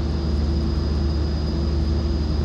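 Steady, loud roar of an airliner decelerating with brakes applied on a runway in the X-Plane flight simulator, a constant broadband rumble with a high whine and no change across the stretch.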